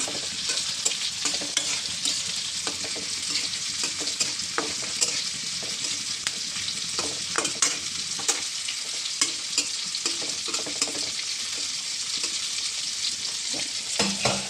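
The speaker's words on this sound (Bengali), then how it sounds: "মেয়ের জন্য 2 পিস মাছ ভাজছি" Two pieces of fish frying in a pan on a home stove, a steady oily sizzle with crackling pops running throughout, fairly close and without talk.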